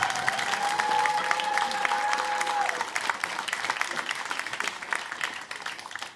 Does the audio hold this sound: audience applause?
yes